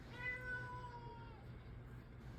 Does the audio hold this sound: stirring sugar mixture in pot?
no